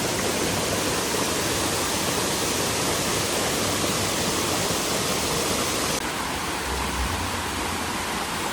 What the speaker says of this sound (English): Guys, it's a fake waterfall.